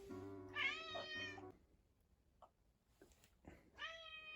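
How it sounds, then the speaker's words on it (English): An angry indoor cat lets out two loud, drawn-out meows separated by a quiet pause with faint small noises, the calls close and strained, with nothing else around them. "We might have a very angry cat for the rest of the video"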